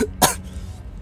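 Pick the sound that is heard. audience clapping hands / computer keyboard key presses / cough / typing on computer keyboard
cough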